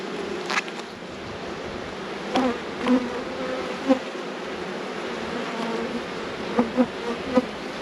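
Honey bees buzz steadily around an open beehive during an inspection of a rescued, queenless colony, a close, continuous drone with a few louder passes as individual bees fly near.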